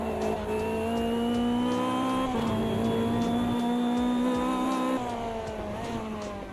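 A single race car engine in Automobilista 2 sings at high revs, its steady tonal note climbing through the gears with a sharp shift midway and another near the end, loud and close, with no talking.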